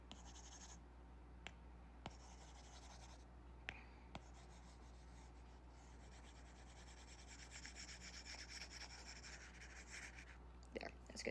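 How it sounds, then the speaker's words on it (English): A whiteboard is rubbed clean with a steady, continuous scrubbing that carries on for about eleven seconds, close and fairly quiet, with a few small knocks along the way and no talking. "I'm going to erase some stuff here"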